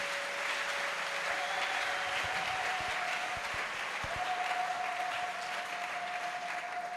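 A church congregation at a Sunday service applauds with sustained, dense clapping that fills the whole stretch at an even level. A faint tonal hum sits underneath.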